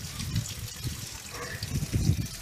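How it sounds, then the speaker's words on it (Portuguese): Water pours from a container onto potted plants outdoors, a close gushing trickle with splashy bursts spilling into soil, while breezy wind noise runs beneath. "Agora eu vou aguar minhas plantinhas aqui"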